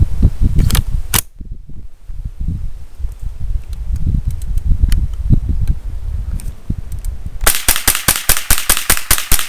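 Sharp cracks from a Savage .22 Model 62/64 rifle, a few isolated shots early, then a rapid series of evenly spaced loud reports near the end, with outdoor rustle and handling noise in between.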